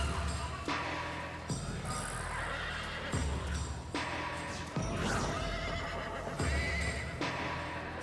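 Repeated horse whinnies and neighs in the video game Shin Megami Tensei V, several in a row at fairly regular intervals, with hoof clip-clops mixed in and a quiet background.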